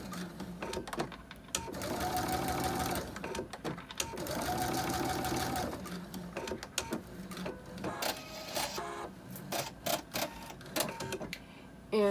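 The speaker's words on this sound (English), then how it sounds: "I'm going to stitch over, back stitch, and stitch over again." A sewing machine stitching a fabric pencil holder, running in bursts as it sews forward, reverses to back stitch and sews over again, with short pauses and clicks between runs.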